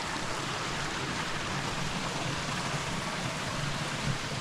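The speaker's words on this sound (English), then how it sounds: "You see just a little bit of water running right there, creating little waterfalls." Small woodland creek trickling over little waterfalls along a hiking trail, a steady, soft broadband rush of running water, continuous and fairly faint with no voices.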